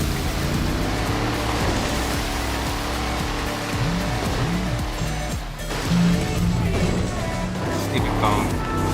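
Monster truck in GTA V churning through swamp water, a continuous rumbling engine under heavy watery splashing and wash, close and loud throughout.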